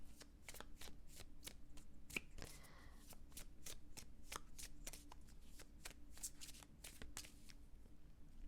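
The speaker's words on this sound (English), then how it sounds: "I really shuffle this way when I go like this" Tarot cards shuffled by hand, a steady run of crisp, quick riffling snaps close up and fairly quiet, with no talking.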